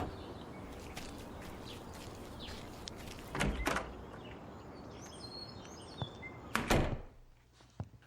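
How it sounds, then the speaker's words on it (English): Cellar door in a radio drama: two separate wooden thunks and creaks, one midway and one near the end, over a quiet room background with no talking. "I'll go out the cellar door and come in the kitchen"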